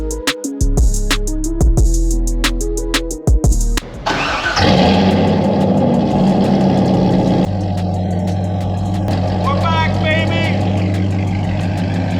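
A repaired and upgraded Chevrolet Corvette fires up after music fades, its engine settling into a loud, steady rumble as the car pulls away and drives at night, close to the microphone with no talking over it.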